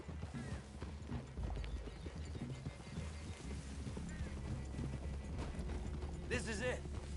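Horses' hooves clip-clop on a trail in Red Dead Redemption 2, steady plodding footfalls close by with an occasional whinny, under quiet game dialogue.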